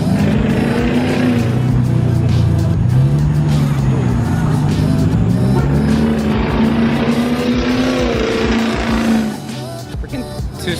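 A car at a meet revs hard against its two-step launch control, a loud, sustained popping drone that rises and falls in pitch for about nine seconds before cutting back, with excited voices nearby.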